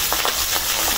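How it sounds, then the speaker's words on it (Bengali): Boal fish frying in hot mustard oil, giving a steady, dense sizzle with crackling pops throughout a brief moment, close and fairly loud with no talking. "তেলটা গরম হয়ে গেছে, মাছ দেব। গোয়াল মাছ।"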